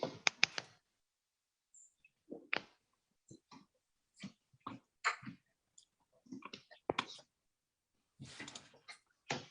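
Quiet, irregular bursts of light clicks from typing on a computer keyboard, with short pauses between clusters of keystrokes and no talking.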